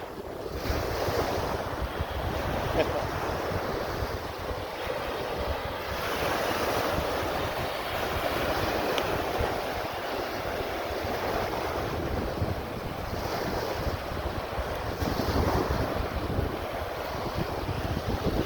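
Strong wind roars against the microphone beside crashing surf on the Mexican coast, a continuous gusty rush with waves rolling in underneath and no voices.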